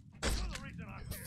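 Glass shatters in a Saw: The Game fight scene on PS3, a sudden loud crash that keeps ringing and scattering for about a second while a voice talks over it.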